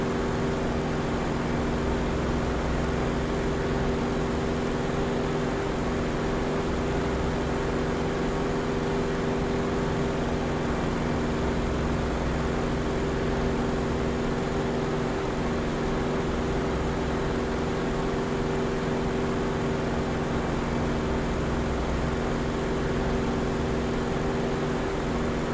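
Corsair fighter plane engine in Microsoft Flight Simulator 2024, heard in VR as a steady, continuous droning hum with a constant tone and no breaks, alone without talk throughout.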